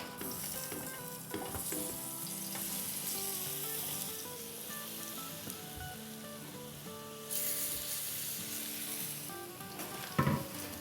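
Chicken tandoori momos fry in about two tablespoons of oil in a preheated pan, giving a steady close sizzle throughout with occasional clinks and scrapes as they are stirred.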